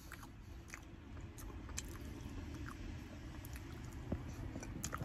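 Dunked Garibaldi biscuits being chewed close up, soft wet squishy mastication with small bites over a steady low background hum, no talking.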